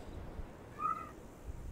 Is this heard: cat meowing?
yes